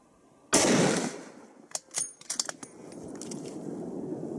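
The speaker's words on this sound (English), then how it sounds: "You shot your buck, Trav." Rifle shot fired at a buck deer while hunting outdoors: one loud, sharp report that decays over about a second, followed by metallic clicks of the action being cycled and low rustling.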